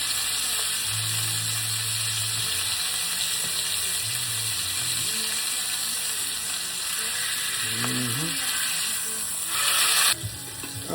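Chuck roast browning in a pot, giving a steady loud sizzle with soft bumps and scrapes as the meat is turned and held against the side.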